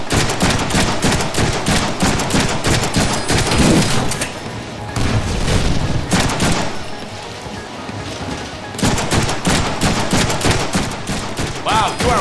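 Sustained bursts of gunfire in the Deadpool video game, loud and continuous with rapid fusillades, a short lull near the middle, then renewed shooting.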